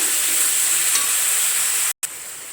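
Crushed garlic and onion sautéing in oil for a dry fish fry, a loud, steady sizzle with stirring that cuts out abruptly for a moment before resuming.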